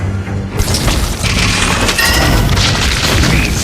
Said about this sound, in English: Your team destroyed a turret!